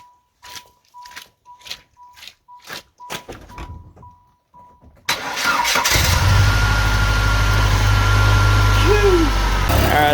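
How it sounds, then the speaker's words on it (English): A 1998 Saturn SL1 engine starting after a few seconds of quiet clicks and handling sounds, the starter catching into a steady, loud idle that runs close by to the end. "Let's get the car started."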